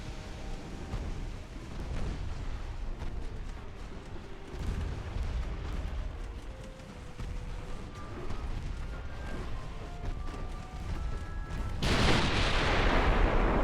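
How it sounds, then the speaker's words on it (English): Battleship main guns fire on a light cruiser during a naval battle in the warship game Ultimate Admiral: Dreadnoughts, a dense run of deep overlapping booms and rumbles that swells into a louder, harsher blast near the end. "these guns should be more than capable of shooting a target at point blank. Shoot at the light cruiser then."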